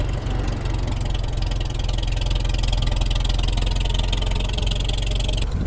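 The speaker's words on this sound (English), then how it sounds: "while the hydraulics are warming up here and the tractor's warming up" A tractor engine idles steadily while warming up before rock crusher work, a loud, continuous low rumble with a regular throb that holds unchanged throughout, with no talk over it.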